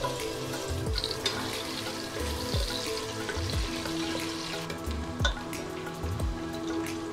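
Thinly sliced onions fry in hot oil with a soft, crackling sizzle. Occasional low thumps and clatters from the pan come through, with no voices.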